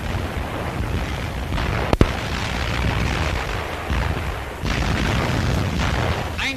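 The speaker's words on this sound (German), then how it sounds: "Einschläge der feindlichen Artillerie." Enemy artillery shells landing on a North African battlefield during a German attack with infantry and tanks, heard as a sharp crack and low boom amid a continuous dense rumble of distant bombardment.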